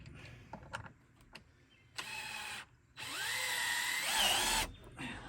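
A power drill driving screws into pallet wood during a pallet-building project, with short, close whirring runs, the longest rising and falling in pitch, separated by quiet gaps holding light knocks and handling noises.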